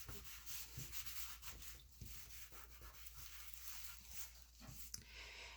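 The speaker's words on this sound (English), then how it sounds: "I just want to make sure I burnish that really good around that magnet" A tool rubs firmly over paper to burnish it around a magnet on a handmade Alice in Wonderland tea-party craft album, giving steady soft scraping strokes over a low constant hum, faint and close.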